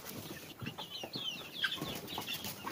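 Two-month-old Arab chickens, hens and roosters kept in a coop, cluck and chirp in a busy overlapping chorus, fairly faint with scuffling in the background.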